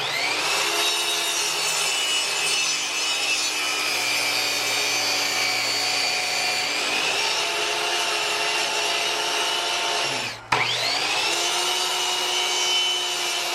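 A power saw slices through wood in one long continuous cut, a loud steady whine with a brief dip near the end as the blade finishes, then resumes.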